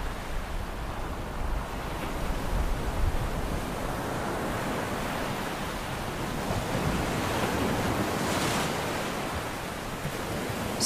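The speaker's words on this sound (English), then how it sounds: "The waves here are powerful" Powerful ocean waves surging and breaking on a shore at De Hoop in South Africa, a continuous rushing roar of surf with swelling crashes, broad and steady with no voices.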